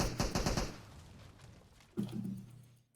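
Gunfire in the mobile battle royale game PUBG Mobile: a quick burst of rapid shots at the start, a quieter stretch, then another short volley, heard fairly faint and without talk.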